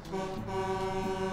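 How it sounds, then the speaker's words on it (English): A single sustained truck horn blares steadily in the trucking game Arctic Trucker, a loud, tonal honk held for just over a second with no talking over it. "I can honk."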